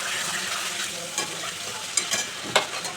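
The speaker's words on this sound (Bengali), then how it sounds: "অল্প আঁচে ঢাকা দিয়ে মশলাটা চিকেনটাকে কষাবো।" Chicken and spice masala are stir-fried on low heat for a capsicum chicken curry, a steady sizzle overlaid by several sharp scraping clinks of a spatula against the pan near the end, with no speech.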